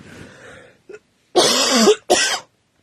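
A couple of harsh, close coughs in quick succession, following a brief breathy throat noise, with silence after.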